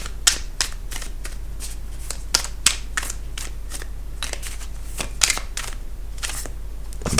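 Tarot cards being shuffled and drawn, with a quick run of crisp, close riffling snaps and flicks that carry on irregularly across the whole stretch over a low steady hum.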